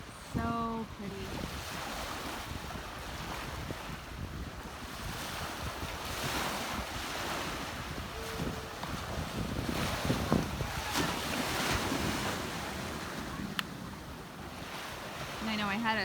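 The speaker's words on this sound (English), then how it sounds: "from those of you who wanted to just listen to the waves, so hopefully you can hear them." Ocean waves washing onto the shore at sunset, a continuous surging wash with wind buffeting the microphone and a few brief voices and tones in the background.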